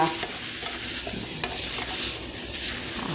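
Minced pork stir-fried in a pan for a Thai basil and century egg dish, a steady close sizzle with scraping stirs and clinks of the spatula against the pan throughout, no voices.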